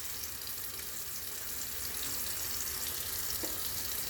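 Hands being scrubbed at a sink during a handwashing skills lab, thumbs and then each finger worked in turn under steady running tap water, a continuous close rushing wash with no talk.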